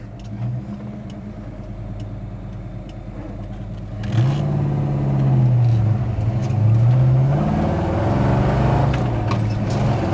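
A 1966 Pontiac GTO engine idles steadily with a low rumble, then picks up louder with wavering revs partway through, close and with no talk.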